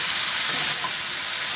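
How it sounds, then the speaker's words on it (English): Okra curry (bhindi, Fiji style) cooks in a pan while it is given a quick mix: a dense, even sizzle fills the whole moment, close up, with a faint soft stir and no talk. "So I'm going to give it a quick mix."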